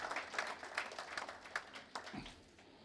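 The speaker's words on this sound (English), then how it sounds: "A big round of applause for Mr. Ashish Shelar" Crowd applause for Mr. Ashish Shelar at the Jaan Bachao Health Organisation launch event, fairly faint and distant, steady clapping that thins out toward the end with a low thump.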